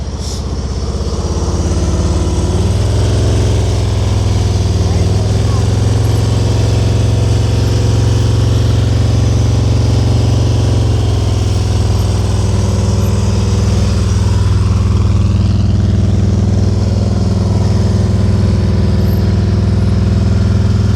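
A motorcycle runs at slow speed during an advanced riding skills practice session in California, giving a loud, close, steady engine drone that holds without breaks.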